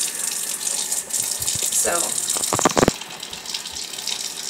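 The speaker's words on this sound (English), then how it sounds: "I like to keep warm water running on my bamboo mat while I do this." Warm water runs from a tap onto a bamboo mat during wet felting of wool beads, a steady close splash and gush with a brief voice over it.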